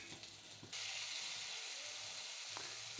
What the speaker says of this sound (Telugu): దీంట్లో మనం బటర్ వేసుకుందామండి. నేను 25 గ్రామ్స్ వేసానండి. ఇది బాగా మెల్ట్ అయినద్దాం.